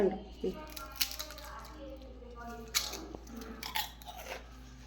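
Close, crisp crunching as homemade achappam, a crunchy fried snack, is bitten and chewed, several sharp crunches spread irregularly over a quiet background.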